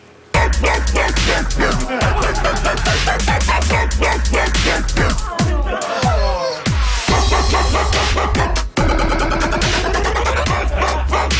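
Dog barks and yips chopped and looped into a loud dubstep track, with heavy bass drops and stuttering repeated bark samples.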